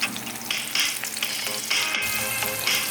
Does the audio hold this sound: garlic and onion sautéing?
yes